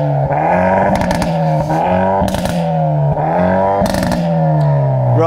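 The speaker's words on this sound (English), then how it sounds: "Give it some revs." Hyundai i30N engine revved while stationary, several sharp throttle blips rising and falling over a steady idle, loud and close with no talking.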